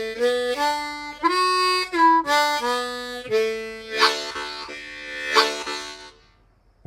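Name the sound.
harmonica playing second phrase of Angeline the Baker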